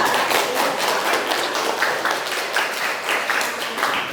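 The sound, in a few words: applause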